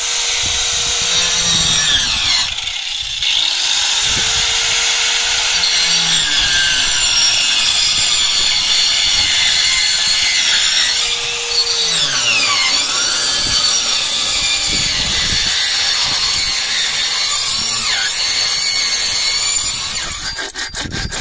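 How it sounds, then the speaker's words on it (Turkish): A saw cuts through brick in steady back-and-forth strokes with a gritty rasp, continuing for about twenty seconds with brief pauses between bursts. "Testereyle tuğla kesmedik de demeyiz arkadaşlar"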